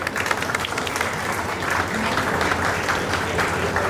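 Audience at a book publishing event applauding steadily, a dense wash of clapping from many hands that holds for several seconds with little change in loudness.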